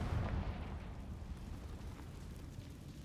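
Bombarda and Confringo spell explosions from the video game Hogwarts Legacy rumble with deep, rolling booms that are heaviest at the start and then settle into a low, sustained roar.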